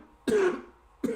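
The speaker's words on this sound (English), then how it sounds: "Excuse me for coughing." A single close, loud cough bursts out indoors during a PC build and fades over about half a second. A second cough-like burst follows right after and cuts off at the end, with no talk.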